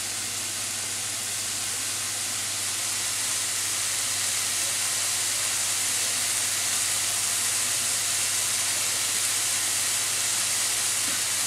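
Garlic ginger paste cooking in a pan for a lamb balti gives a steady, even sizzle. It is a continuous broadband hiss that stays close and unchanging throughout, with no one talking.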